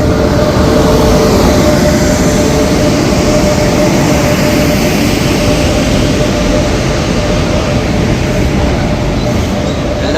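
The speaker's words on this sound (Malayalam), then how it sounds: "അങ്ങനെ പഞ്ചാബിലേക്കുള്ള ട്രെയിൻ ഇതാ വരണേ ആ ഒച്ചയൊക്കെ ഉണ്ട്" A train bound for Punjab pulls into a station before dawn on a cold morning, a loud, continuous close-up rumble and roar with a faint steady whine, filling the whole stretch with no talk.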